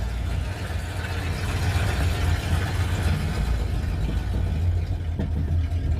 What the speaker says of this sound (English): boy, the engine sure sounds good, all except for the exhaust